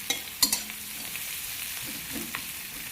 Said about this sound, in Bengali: এখন পেঁয়াজটা ভালো করে লাল লাল করে ভেজে নেব।